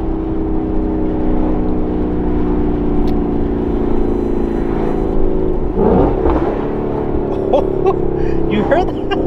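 A 2015 Ford Mustang GT fitted with a Corsa Xtreme cat-back exhaust on a stock tune drones loudly and steadily throughout, with a brief rougher burst near the middle and a few sharper crackles toward the end.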